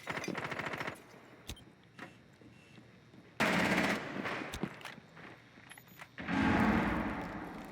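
Gunfire from a no-recoil cheat in a Rainbow Six Siege match: rapid bursts of automatic shots in several separate volleys, loud and close, with brief single cracks between.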